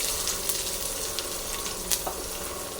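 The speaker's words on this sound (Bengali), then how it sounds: "পেঁয়াজটা লাল করে ভেজে নেব" Chopped medium-sized onions sizzle in hot oil with tempering spices, a continuous close crackling hiss with a few sharper pops and spatters throughout.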